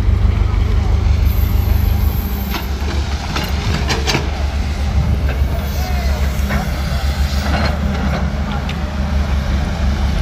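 A train runs along a railway track in Solapur where new track is being laid, giving a steady loud rumble with some squeals and clanks through the whole stretch.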